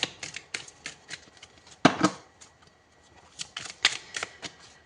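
Oracle cards shuffled by hand at close range, a run of quick papery riffles and flicks with two louder bursts of shuffling, the room otherwise quiet.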